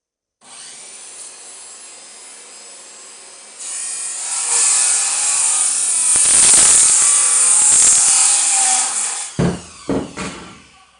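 Power saw cutting wooden boards for a shelf, a loud close whine that starts lightly, then rises into a harsh sustained cut for several seconds before winding down with a few short bursts.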